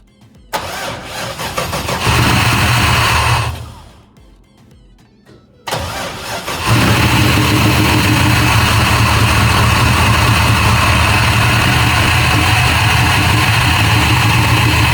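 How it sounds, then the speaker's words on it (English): LS-swapped Toyota Cressida engine cranks and fires, goes briefly quiet, then restarts and settles into a loud, steady idle that runs close up and uninterrupted, with no voices. "as you heard, we got the motor started"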